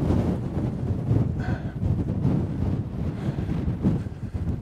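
Gusty wind buffets the microphone on an exposed granite tor on Dartmoor, a loud, low, uneven roar that swells and eases with no voices.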